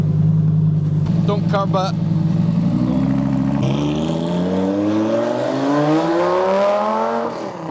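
Straight-piped Lamborghini Gallardo V10 with a gated manual, loud and close from inside the cabin, revving up through a rising climb then easing off, with a brief spoken remark early on.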